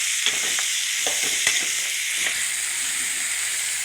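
Tomatoes sizzle steadily in a hot pan for a Tamil vallarai keerai (brahmi leaf) dish, a constant bright frying hiss broken by a few soft clicks of stirring, close and even throughout.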